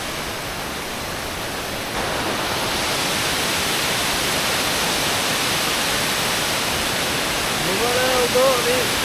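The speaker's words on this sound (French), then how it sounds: "on va aller voir la chute qui se trouve là" A waterfall in the Orbe river gorge roars as a steady, dense rush of falling water, close and loud throughout, growing slightly louder partway through, with a faint voice near the end.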